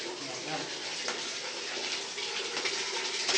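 Water runs steadily from a tap, a continuous splashing gush that fills the short clip.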